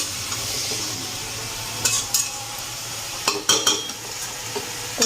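Food sautés in a pan with a steady close sizzle, punctuated by several sharp scraping clatters of a utensil stirring against the pan, clustered in quick pairs and bursts. No voices are heard.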